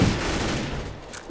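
Gunfire in Counter-Strike: Global Offensive, a dense burst of rapid shots that booms at the start and then rolls on as a fading rattle, loud and close, with no voices over it.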